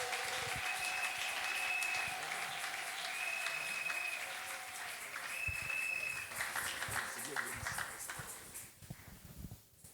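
A church congregation claps to welcome a pastor during a service, producing dense, sustained applause that swells and then thins toward the end, with voices and music underneath.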